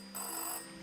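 A telephone in the video game Season: A Letter to the Future rings once, a bright electronic trill that starts abruptly and fades quickly, faint and alone.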